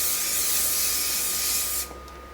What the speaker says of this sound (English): Take your hairspray,